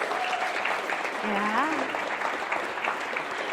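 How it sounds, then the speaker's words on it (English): A gathering audience applauds community builders with steady, moderately loud clapping, and voices and a brief exclamation mix in throughout. "Can we all leave a round of applause for our community builders?"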